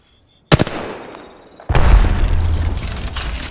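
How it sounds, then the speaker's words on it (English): An Arc Star grenade detonating in the game Apex Legends: a sharp burst hits hard, decays briefly, then a second loud blast erupts and sustains as a rumbling, crackling roar. "Releasing an Arc Star."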